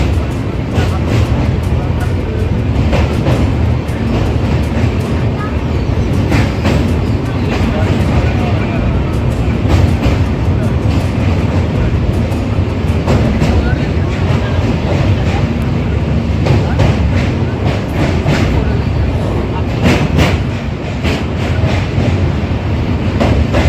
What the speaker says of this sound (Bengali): সাঁতরাগাছি উলুবেড়িয়া হয়ে ট্রেন বেশ জোরেই ছুটছিল